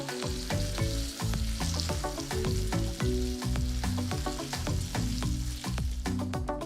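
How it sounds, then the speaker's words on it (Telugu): Dried red chillies, asafoetida, curry leaves and mustard seeds fry in hot oil for a tempering, giving a continuous sizzle under steady background music. "నాలుగైదు ఎండుమిరపకాయలు పావు టీ స్పూన్ ఇంగువ కొన్ని కరివేపాకులు కూడా వేసి వేయించాలి"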